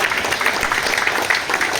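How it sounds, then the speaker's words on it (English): An audience at the Shelsley Walsh hill climb applauds for the Britpart and SMG Barrett teams, a short burst of steady, fairly loud clapping from a crowd. "Let's have a round of applause for the Britpart guys and for SMG Barrett as well"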